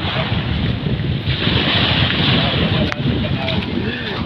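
Continuous rushing surf with waves washing in on the shore at Talahib Pandayan, Batangas City, at night, mixed with gusty wind buffeting the microphone, loud and close.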